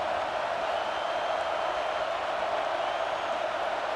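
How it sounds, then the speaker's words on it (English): A stadium crowd in a college football video game, Arizona State vs UCLA, roars as it gets behind the defense on third down: a steady, even wash of distant cheering with no clear breaks. "Decibels rising as the crowd gets behind this defense on 3rd down."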